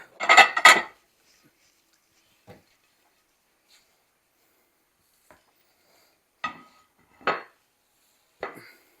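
A freshly baked pan of cornbread made with fresh milled cornmeal slides around in a skillet. It gives a burst of scraping, clattering pan sounds at the start, then a few brief scrapes separated by quiet gaps.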